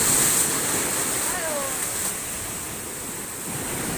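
Floodwater rushes steadily during a typhoon at night, a continuous broad roar like heavy surf filling the whole stretch without letup.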